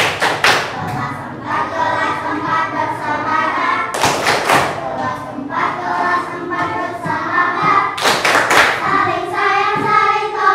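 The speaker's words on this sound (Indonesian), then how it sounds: "Tepuk kanan hebat." An elementary school class claps hands in a patterned chant, sharp group claps landing in rhythmic bursts every few seconds, with children's voices chanting between them.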